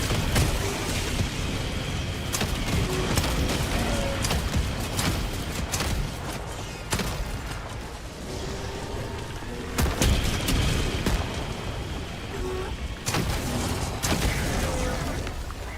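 In a video game, anti-aircraft fire goes off around the player: repeated heavy booms and sharp bursts spread across a dense, noisy battle backdrop, some close and loud, others further off.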